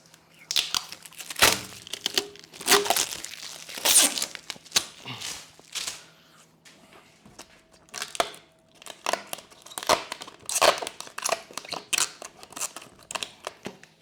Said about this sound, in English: There's also this tape on it that I'm going to make sure comes off first.